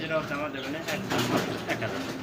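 Soft pigeon cooing mixed under steady conversation, the birds close by and continuous throughout.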